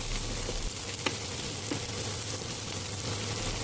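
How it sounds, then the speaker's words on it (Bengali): Chopped onions frying in oil in a pan for singara filling, a low continuous sizzle with a few faint clinks of stirring, close and unaccompanied by voices. "এবার পেঁয়াজগুলোকে বাদামি কালার করে ভেজে নিব।"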